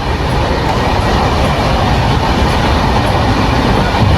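Loud, steady rumble of a nearly empty passenger train running on rails, with continuous rolling noise and faint rhythmic clatter throughout.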